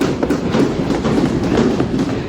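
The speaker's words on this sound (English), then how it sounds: "then do give a mighty stomp of your feet" A crowd stomps their feet on a wooden floor at a Boston Tea Party reenactment, a dense, loud rumble of overlapping thumps that rolls on continuously like a passing train, with no speech.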